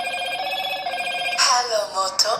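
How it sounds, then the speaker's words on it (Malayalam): Default ringtone of a Moto Edge 50 Fusion phone plays as a steady, bright electronic melody with layered tones, rising into a busier, louder phrase near the end, heard clearly with no talking over it. "ബൈ ഡിഫോൾട്ട് വരുന്ന റിംഗ് ടോൺ ഇപ്പോഴും ഇതാണ്"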